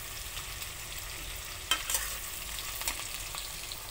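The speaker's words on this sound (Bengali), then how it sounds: "তো এখানে আমি দিয়ে দেব ক্যাপসিকাম সবুজটা" Green capsicum stir-frying for restaurant-style chilli chicken, a steady close sizzle with soft scraping of a spatula and a couple of brief clinks, no talking.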